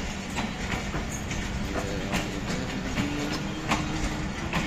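The Allama Iqbal Express, a long train with many coaches, rolls through Sialkot railway station with a continuous heavy rumble and steady rhythmic clickety-clack of wheels over rail joints.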